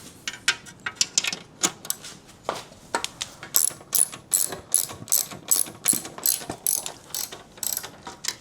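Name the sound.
ratchet tightening bolts on a Harley build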